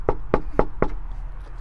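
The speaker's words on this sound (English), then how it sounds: "Knock on the door, ASMR." Four evenly spaced knocks on a door, close and fairly loud, with no talking in between.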